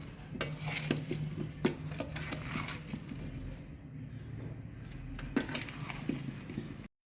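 Spoon stirring a pickle mixture in a pot, steady scraping and clinking strokes repeating across the clip, fairly close with low kitchen background and no talk.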